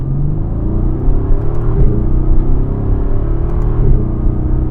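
A 2018 Mercedes-AMG GT R engine drones and rumbles close by in manual mode, its pitch rising and falling as it revs and shifts through gears with an ignition-kill blip, with no talking.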